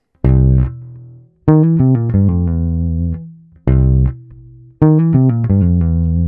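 Bass guitar playing a major-to-minor fill, clean, round low notes in two repeated phrases, each opening with a sustained note followed by quick plucked runs, played alone.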